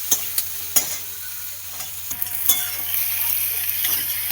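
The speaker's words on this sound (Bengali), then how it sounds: "এবার সব পেঁয়াজ এবং টমেটোটা দিয়ে দেব।" Onion and tomato fry in a pan after panch phoron and radhuni tempering for a rohu fish and cauliflower curry, giving a soft, steady sizzle broken by sharp clinks and scrapes of a stirring spoon against the pan.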